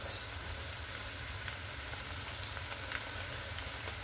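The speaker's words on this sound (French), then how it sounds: "Je laisse cuire ces oignons pendant quelques minutes." Onions cooking in a pan for a saka saka with shrimp and smoked fish, giving a steady, soft sizzle with faint crackles throughout and no voices.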